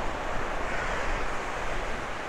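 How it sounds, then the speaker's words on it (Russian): Steady, loud rush of strong wind buffeting the microphone on a Bulgarian seaside promenade, with a constant broadband roar and no voices. "здесь уже задул сильный ветер"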